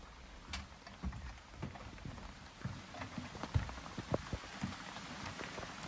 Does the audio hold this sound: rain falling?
yes